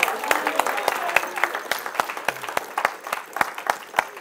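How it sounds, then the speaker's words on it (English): A church congregation claps in praise during a sermon, a steady rhythmic run of sharp claps about three per second, lasting the whole stretch, with a faint voice in the background. "Give the Lord a hand clap of praise."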